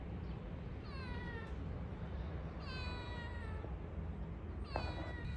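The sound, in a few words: cat meowing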